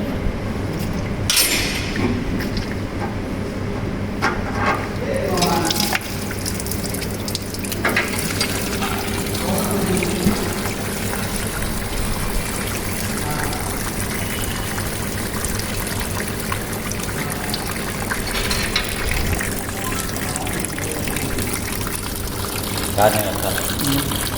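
Diesel pours and trickles steadily for a long stretch as it drains from a tractor's fuel tank, with a person talking over it now and then.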